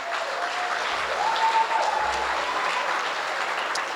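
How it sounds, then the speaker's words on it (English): An audience at a formal gala dinner applauds the event's sponsors, a steady wash of many hands clapping across the room, swelling slightly in the middle before holding level. "Please a big round of applause to these sponsors."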